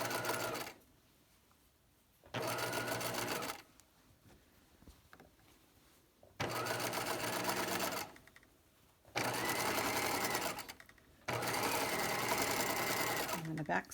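Domestic sewing machine back stitching an understitch along a facing seam, running in four loud steady bursts separated by pauses with quiet handling sounds in between.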